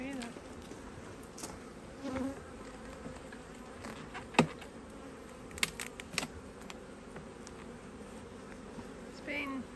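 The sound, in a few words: honey bees buzzing around HiveIQ beehive box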